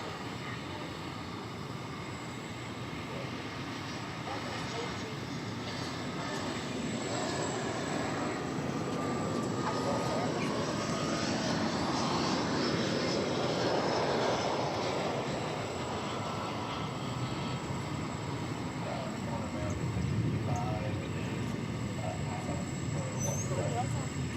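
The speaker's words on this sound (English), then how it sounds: "there's the flight from Columbia, and coming right behind it is American Flight 102" Airliner flying past at DFW Airport, a broad roar that swells toward the middle and then eases, heard from a distance with steady background rumble.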